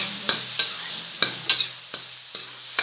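Poha with a little turmeric powder being stirred in a frying pan, the spoon scraping in sharp, evenly spaced strokes about every half second over a soft background sizzle, close and without talk.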